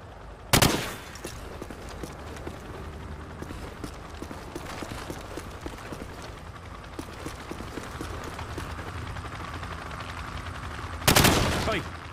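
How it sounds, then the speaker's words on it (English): Rapid gunfire in Call of Duty 4 Modern Warfare on Xbox One, shooting through thin plywood targets at a firing range: two loud close blasts at the start and end, with a steady stream of lighter clattering shots and game ambience between. "I want you to shoot the targets through the wood."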